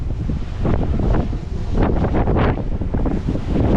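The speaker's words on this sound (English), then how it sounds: "Big waves." Big waves and strong wind buffet a ferry crossing from Ibiza to Formentera, with loud, continuous roaring gusts and surging water swells pounding close to the microphone throughout.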